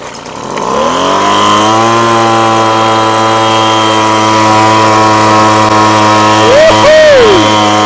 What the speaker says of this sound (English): Alright, so we'll go to run and full throttle since it might have loaded the carb up.